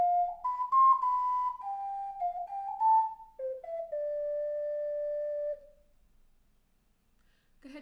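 An ocarina plays the opening sections of a tune as a clear solo melody of sustained notes, ending on a long held tone before fading into silence.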